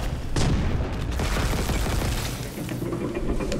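Explosions in the video game Dead Space Remake burst out in a loud booming cluster, followed by rumbling game noise and smaller pops, with no voices.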